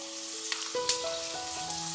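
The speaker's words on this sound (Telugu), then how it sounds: "దీనిలో మనం ఆవాలు, జీలకర్ర, ఎండుమిరపకాయలు, పచ్చిశనగపప్పు, తాలింపు గింజలు మొత్తం వేసి వేయించుకోవాలి." Mustard seeds, cumin, dried red chillies and chana dal crackle and sizzle in hot oil for a potato tempering, a steady close fry with a few sharp pops over faint background tones.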